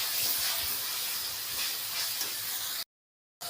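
Ground spices, turmeric and ginger garlic paste fry in a hot pan with potatoes and peas, giving a loud, close, steady hiss and sizzle that cuts off abruptly near the end before resuming briefly.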